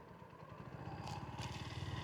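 Motorcycle engine idling at a toll plaza on a cold, cloudy mountain road, a steady low pulsing rumble close by with faint clatter, no voices over it.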